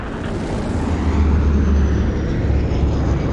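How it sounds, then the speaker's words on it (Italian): A loud, steady roar of an airplane engine droning overhead in the video game Dying Light, broad and rumbling, swelling slightly in the middle as it passes. "Sta passando un aereo."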